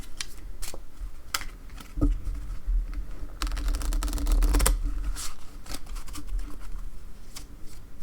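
Crisp riffling and snapping of slippery casino playing cards being shuffled close by, a burst of rapid flutters in the middle amid scattered taps and shuffles.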